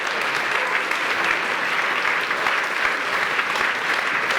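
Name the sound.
applause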